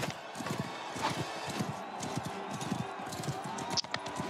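Horse hooves clip-clop steadily in the Mount & Blade Bannerlord video game, a continuous galloping patter with game ambience and a faint voice in the background.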